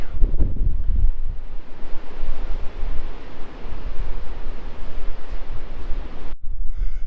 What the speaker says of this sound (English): The wind is so strong that the wind is pushing back the waves.